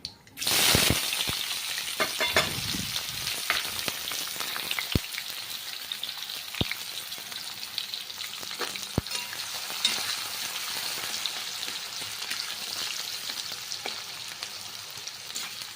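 Onion and green chili drop into hot oil with mustard seeds for upma, bursting into a loud sudden sizzle that settles into steady frying crackle with scattered pops, no talk.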